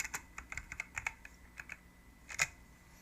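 Rapid keystrokes clatter on a computer keyboard in uneven bursts, close and clear with no talking, ending with a heavier final tap.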